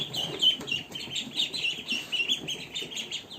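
Ducklings keep up a steady stream of thin, high peeps, close by and overlapping in quick, irregular bursts with no talking.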